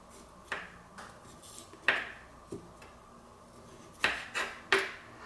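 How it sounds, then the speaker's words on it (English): A kitchen knife scraping and cutting the tough skin off a knob of fresh ginger, heard as a string of sharp, separate taps and clicks against a cutting board, fairly close and unhurried, with nobody speaking. "So I'm just cutting our, the covering, the wrapper off the ginger."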